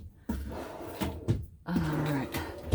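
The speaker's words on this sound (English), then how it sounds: "So I'm just closing those drawers." Small drawers of a compact storage unit being slid shut indoors, a few short knocks and a sliding rumble close by, with brief low voice sounds between.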